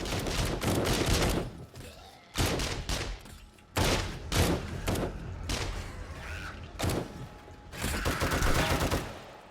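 Gunfire from a weapon in the zombie survival game 7 Days to Die on insane difficulty, heard as several loud, close bursts of rapid shots separated by short pauses.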